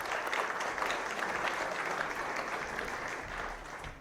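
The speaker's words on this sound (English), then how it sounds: "give them a round of applause." A symposium audience gives the four panelists walking onto the stage a round of applause: dense, sustained clapping fills the room at an even level and eases off slightly at the end.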